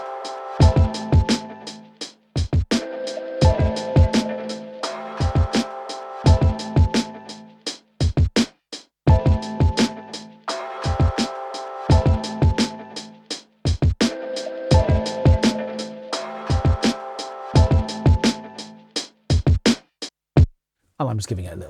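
A programmed drum beat of original sampled kicks, snares and hi-hats plays in Logic Pro, crisp repeating hits in a steady groove with short pauses between bars, loud and alone without talk.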